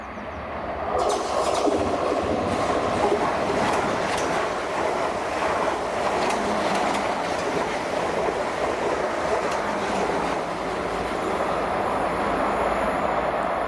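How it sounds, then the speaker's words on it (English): A train rolls into the platform at Surbiton station on the South West Main Line, a sustained loud rumble with wheel clatter and brief squeals running throughout, no talking. "Train now approaching platform 2"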